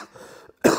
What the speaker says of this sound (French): excuse-moi pour la toux